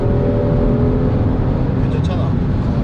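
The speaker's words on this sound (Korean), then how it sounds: "이 엔진 사운드가 실내로는 어떻게 좀 잘 유입이 되면 그러면 뭐 엔진 사운드도 나쁘진 않은데" A Kia Stinger 3.3 Turbo GT in sport mode gives off a steady, loud, low engine drone with a humming tonal edge, heard from inside the cabin.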